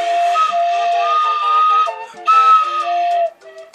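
A wooden atenteben flute plays a note that leaks from a poorly covered finger hole, a breathy, airy whistle with wavering pitch in two sustained bursts separated by a short break, close and fairly loud.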